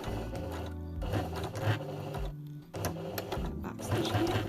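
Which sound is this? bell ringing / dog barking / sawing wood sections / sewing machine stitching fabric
sewing machine stitching fabric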